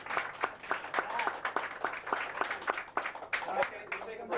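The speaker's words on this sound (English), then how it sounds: "Give her a round of applause" Scattered clapping from a small crowd in a pub, uneven and fairly quiet, with individual hand claps distinguishable and voices talking underneath.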